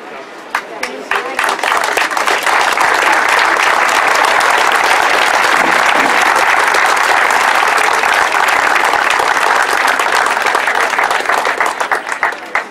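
A large crowd outside a prison breaks into loud, sustained applause that swells quickly and continues steadily for several seconds before tapering slightly.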